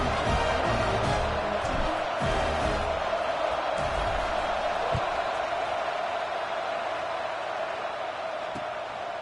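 A stadium crowd at a USC football game keeps up a steady, loud roar during a late one-possession game as the kickoff approaches, a continuous wall of cheering without clear breaks.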